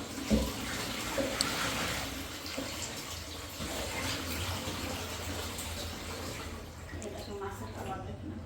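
Lukewarm water poured over washed fish, a steady splashing pour running continuously and close, with a voice speaking over it.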